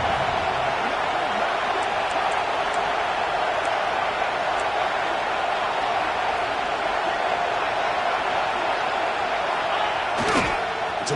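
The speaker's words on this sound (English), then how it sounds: "And here comes the noise. This crowd is trying to inspire this defense to make a big red zone stop." A football stadium crowd in a college game between Tennessee and Texas makes constant loud noise during a red zone stand, a dense sustained roar with a brief thud near the end.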